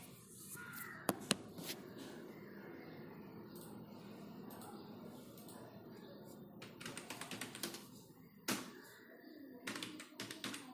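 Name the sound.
typing names on a computer keyboard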